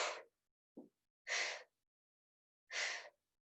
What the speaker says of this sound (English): Exhale to lift.